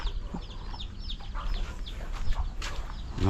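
Young chicks in a brooder give high, repeated peeping calls against a steady farmyard background, and a brief low thump sounds near the end.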